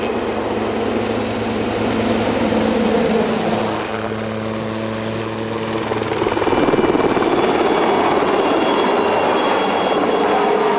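An Air Glaciers helicopter flies low among cables and poles, its rotor and turbine a loud continuous drone with pulsing throb that shifts in pitch as it passes and manoeuvres, no talk.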